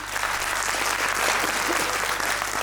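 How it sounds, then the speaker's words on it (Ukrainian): Sustained audience applause at a comedy improv show in Lviv, a steady dense wash of many hands clapping close and loud throughout, with no voices over it. "оплески цим прекрасним хлопцям"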